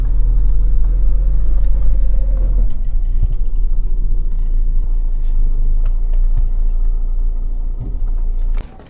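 A heavy truck drives along a quiet rural Belgian road toward a parking area, its engine a steady, close, low rumble that eases slightly partway through. No one speaks.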